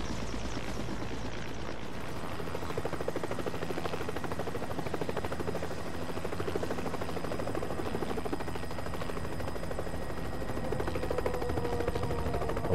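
A helicopter in the PlayStation 3 shooter HAZE gives off a continuous rotor drone with a fast, even chop that holds at a steady loud level throughout.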